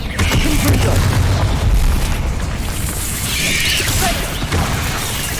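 A Confringo fire spell bursts in Hogwarts Legacy, a loud, dense explosion with rumbling booms that fill the whole stretch. Continuous crackling battle noise runs alongside it.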